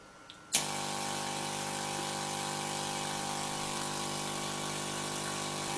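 Homemade Tesla coil switching on abruptly and then buzzing steadily, a loud, even electrical drone with dense harmonics that holds without change to the end.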